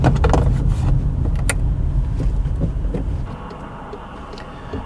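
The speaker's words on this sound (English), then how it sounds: "Got some rattles here." Interior rattles in a cheap VW Golf Mk5 while driving, small clicks and buzzes over a loud, steady road and engine rumble that drops in level near the end.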